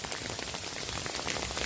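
Hail falling steadily in San Diego, heard from beneath a large tree as a dense, continuous patter of ice striking surfaces nearby, with no talk over it.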